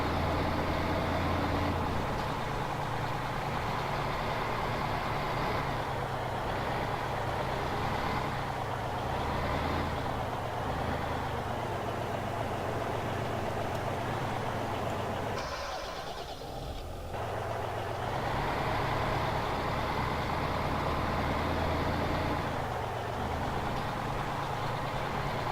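A truck running on a farm, its engine holding a steady, close idling drone for the full length, with no talk.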